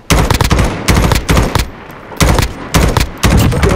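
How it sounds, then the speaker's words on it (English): Automatic gunfire in a video game comes in loud, close bursts of rapid shots, about five separate volleys with short gaps between them. "Where are they shooting from?"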